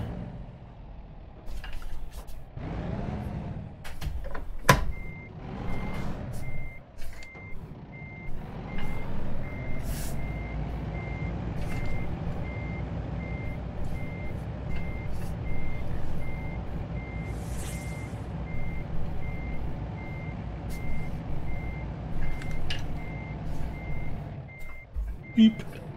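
A truck in American Truck Simulator backs up with steady, evenly spaced reversing beeps over a low engine rumble, with a short air-brake hiss near the end.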